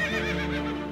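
A horse neighing sound effect in a school drama room, a brief wavering whinny that is loud, close and continuous, heard alone.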